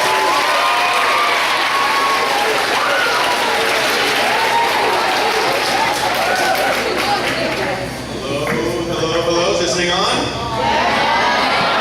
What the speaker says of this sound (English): So if we can all give a great big round of applause for this.